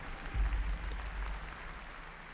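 A crowd at the E3 2017 PlayStation press event claps and cheers, a broad wash of applause swelling early then settling into a steady roar, no voices over it.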